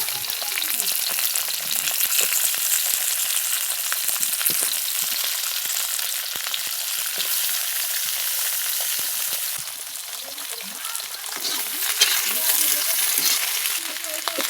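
Potatoes, flat beans and eggplant frying with salt in a pan, a steady loud sizzle with scattered scraping stir strokes throughout and no talking.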